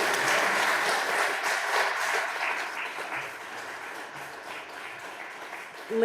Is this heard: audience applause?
yes